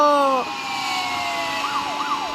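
A police vehicle siren in the Indian Thief Aura simulator video game wails with a rising and falling tone, loud and close, first in a rapid sweep and then in slower up-and-down glides.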